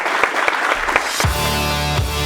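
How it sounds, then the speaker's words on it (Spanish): Audience applause after a Chilean political talk show segment, a few sharp claps at first then steady clapping that swells as music with a sustained tone comes in underneath. "Un aplauso."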